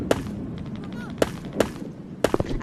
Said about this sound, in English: I hear gunshots in the background